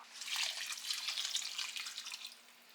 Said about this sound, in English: I am going to add some water at this point just to cover the top